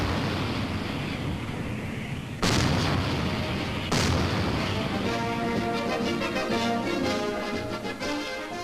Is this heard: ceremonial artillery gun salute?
yes